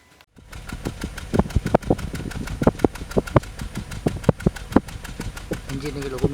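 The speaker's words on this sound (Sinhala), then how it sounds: "එන්ජින් එකේ ලොකු මිස් එකක් තියෙනවා. ඒක ඇහෙනවා ඇති ඔයාලට." A Nissan Sunny N16 engine idles with a misfire, heard as a rough, uneven train of sharp knocks and puffs at an irregular rhythm, close and fairly loud.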